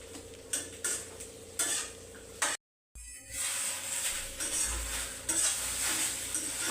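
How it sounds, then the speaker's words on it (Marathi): Okra dry-frying in a pan without sauce as it is stirred, giving steady scraping and clinking against the metal with a soft sizzle underneath, broken by a brief silent gap midway. "आता मम्मी ते भेंडी भाजते फ्राय करते"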